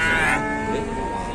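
A Simmental cow at the busy Ambarawa livestock market, a cramped animal unable to stand, gives one loud, drawn-out moo close by, trailing off over the background.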